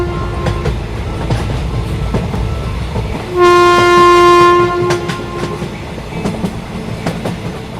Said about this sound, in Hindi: तभी ये ट्रेन शुरू हो जाती है